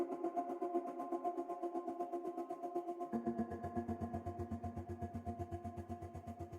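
Sampled string build-up effect in an Afrobeats-style beat: a dense, pulsing swell of layered tones that grows fuller midway as a low rhythmic throb joins in, steady and moderately quiet.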